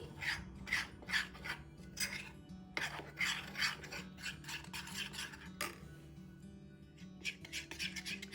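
Custard powder being stirred into milk in a bowl: a utensil scraping and rubbing in repeated rhythmic strokes, close and fairly quiet, with soft clinks and no talking.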